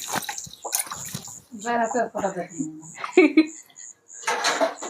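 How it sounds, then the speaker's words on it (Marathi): Hands being rinsed under splashing water in a home kitchen while making village-style mande flatbread to go with mutton; short bursts of running water come and go between a voice talking close by. "हात धुतो ना"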